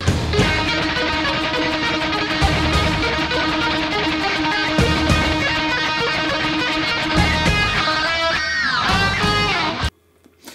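A fast, fluid electric guitar legato run from a solo, smoothly connected notes over a full band, sustained and loud, cutting off abruptly near the end.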